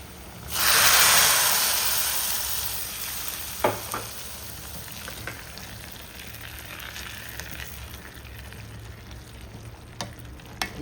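A hot tempering is poured into cooking fenugreek greens and bursts into a loud hiss that fades gradually. Scattered stirring clicks and knocks in the pan follow.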